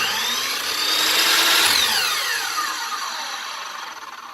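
A Ridgid 12-inch sliding compound miter saw blade revs up to a loud high whine, then winds down as it coasts, heard close and alone.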